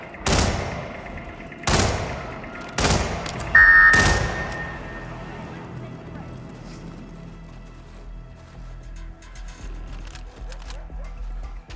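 Four sharp, loud gunshots ring out about a second apart in the Hitman 2016 video game, each with a short decaying tail, followed by low ambient rumble and faint background noise.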